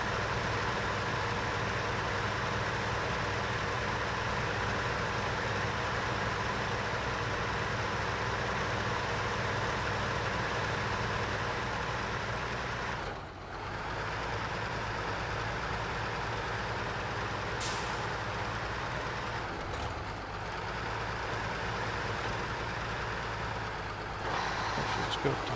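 A truck in SnowRunner grinds through mud in freeway gears, its engine a steady low drone that continues throughout with a couple of brief dips in load and faint high clicks.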